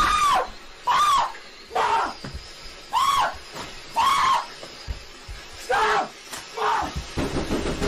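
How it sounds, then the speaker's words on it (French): Streamers repeatedly let out short loud screams in a room, about eight shrill yells spaced roughly a second apart, each a brief burst with quieter gaps between. "le but du jeu, c'est de crier de plus en plus fort"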